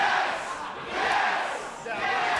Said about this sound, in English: I love feeling that crowd get behind this guy